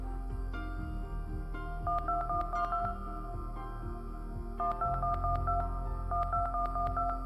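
A telephone number is keyed in within a video game, a quick run of distinct dial-tone beeps in two bursts separated by a short pause, clear and close over a soft steady background hum.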